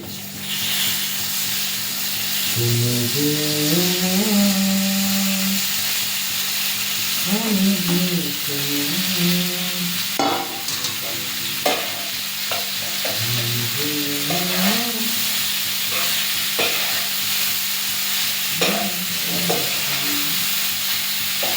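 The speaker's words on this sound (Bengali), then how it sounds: "এবার আমরা পাস্তাটা দিয়ে দেবো।" Pasta frying in a little oil in a pan, a continuous sizzle with stirring scrapes and clinks throughout, while a person talks over it at several points.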